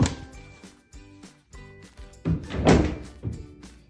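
Dresser drawers in a student residence room slide and shut with a series of hollow wooden thunks and knocks, some louder than others, in close, irregular succession.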